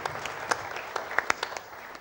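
Sparse, uneven hand claps from an audience at a cooperative credit bank gathering in a theatre, scattered individual claps rather than a full ovation, fairly faint and brief.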